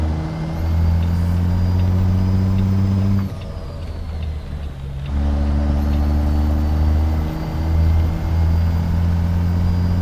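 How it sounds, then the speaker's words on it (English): A Peterbilt 389 truck pulls hard with a loud, high turbo whistle over a deep engine drone, drops off for a couple of seconds during a shift, then the whistle spools back up and holds. "the turbo spool on this thing is dirty"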